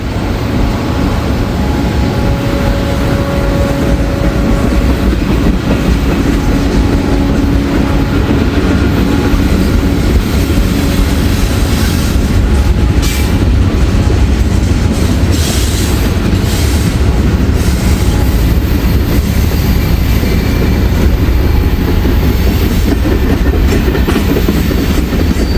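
A Norfolk Southern freight train passes near Walton and Richwood, Kentucky, with a loud, steady roar of rolling cars, rhythmic wheel clatter and occasional squeal running unbroken for the whole stretch.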